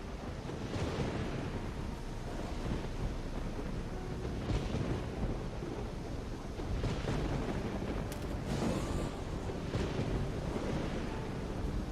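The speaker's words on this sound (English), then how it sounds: "God, this storm is mad" A raging storm in the video game Risen, with steady roaring wind and crashing waves filling the scene at a loud, unbroken level, with occasional heavier gusts and surges.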